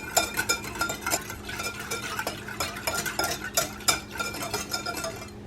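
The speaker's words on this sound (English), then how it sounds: "Then what we're going to do is whisk this together. Make sure that the sugar dissolves completely." Whisking a Hawaiian steak marinade with oil and sugar in a bowl: a steady run of quick scraping, clinking whisk strokes against the bowl, close and fairly loud, with no talking.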